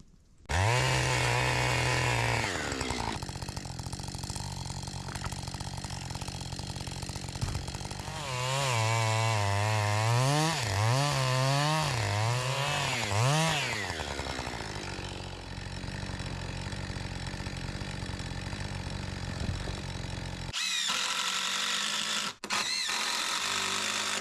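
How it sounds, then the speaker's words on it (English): A chainsaw milling boards for a barn roof runs loud and close almost the whole time, holding a steady whine with several surges and dips as the bar bites the log, then dropping to idle near the end. "I'm gonna go real quick before it gets dark and mill some boards for the roof"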